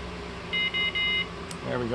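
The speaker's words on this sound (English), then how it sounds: "And then I'm going to home it and see if I get my double beeps." A Celestron 14 inch Edge telescope mount gives a homing signal of three short, steady electronic beeps in quick succession, fairly clear over low room noise, followed by a faint voice.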